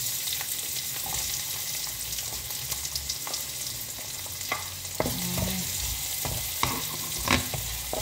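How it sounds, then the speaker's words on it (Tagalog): Onions sizzle and fry steadily in a pan for a pasta dish, a constant close crackle with occasional louder stirring clatters and spatula knocks, no voices. "Saka lagyan natin ng onion."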